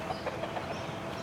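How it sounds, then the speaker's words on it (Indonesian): Chicken clucking in a short series of soft calls, faint against steady outdoor background noise heard on an early-morning walk. "Ada ayam."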